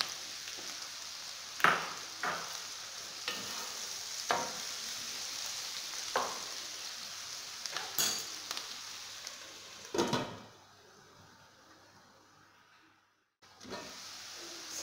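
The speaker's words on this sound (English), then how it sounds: "the onions have started browning" Onions fry and brown in a pan, a quiet steady sizzle broken by repeated stirring scrapes and clinks, with a brief near-silent gap toward the end.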